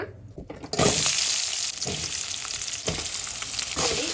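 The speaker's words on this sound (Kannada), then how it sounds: "ಫ್ರೈ ಮಾಡ್ಕೊಳ್ತಾ ಇದ್ದೀನಿ ಫ್ರೆಂಡ್ಸ್. ನೀವು ನೋಡ್ಬೋದು, ಸ್ವಲ್ಪ ಫ್ರೈ ಮಾಡ್ಕೊಂಡಿದ್ದೀನಿ ನಾನು ಈರುಳ್ಳಿನ" Onions fry in about two spoons of oil for a mutton curry, a loud, close, sustained sizzle that swells after a brief quieter start, with occasional stirring scrapes and no speech.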